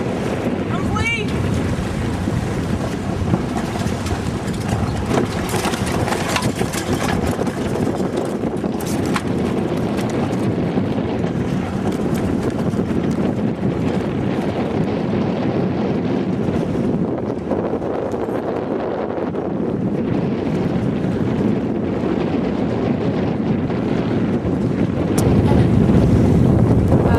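A sailboat heading out from Nassau under way, with loud steady wind buffeting the microphone over rushing water and waves against the hull, a continuous close roar that swells near the end.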